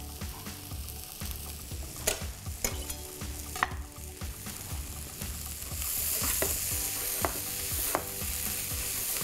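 Kale and ginger sizzle and fry in a pan for a chickpea and kale curry, with steady close frying noise broken by repeated scraping and clacking stir strokes, fairly loud and without talk.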